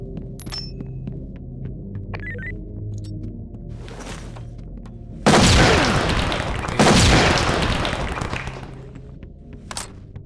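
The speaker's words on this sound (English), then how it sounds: "Entry team, we think they've started shooting each other." Suspects exchange gunfire in SWAT 4 as two loud, dense bursts of overlapping shots that each last over a second, set against a low throbbing hum with a few scattered clicks.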